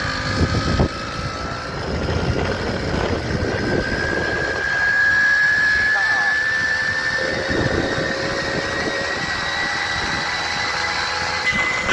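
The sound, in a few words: Tomos A35 moped engine accelerating uphill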